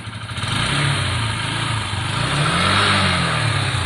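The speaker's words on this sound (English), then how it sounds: "Put a little bit of revs on." A Lexmoto Sultan motorcycle engine revs steadily and loudly, its pitch rising and falling slightly as the throttle is held open, with no talking.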